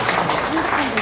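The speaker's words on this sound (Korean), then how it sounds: "큰 박수와 함께 시작했으면 좋겠습니다." Audience at a panel discussion breaking into brief applause, dense clapping close by with a voice faintly underneath.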